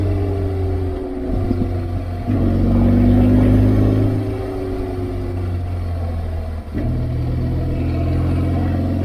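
A BMW R1200GSA motorcycle engine drones continuously while riding on a road, rising briefly as it pulls harder, then easing back with wind rush around it.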